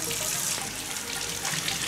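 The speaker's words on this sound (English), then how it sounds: "I open my faucet." A bathroom faucet runs at low flow, medium temperature, while makeup brushes are rinsed: a steady, close hiss of water splashing into a sink with no other sound.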